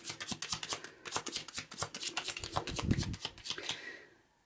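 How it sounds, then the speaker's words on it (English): Tarot oracle cards are shuffled by hand in a steady, rapid run of crisp riffling flutters, close and alone, fading out at the end. "let me get out a few of the Miss Rose Tarot Divine Guidance Oracle cards as"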